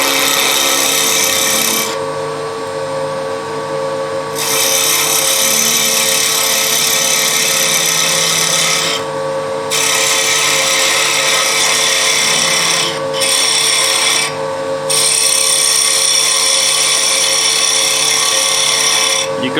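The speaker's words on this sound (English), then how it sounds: "So I'm going to get a parting tool to open up a little bit more of that wood." A parting tool cuts into wood spinning on a lathe while a finial is turned, giving a loud, steady rasping whine that breaks off briefly several times as the tool is lifted and reapplied.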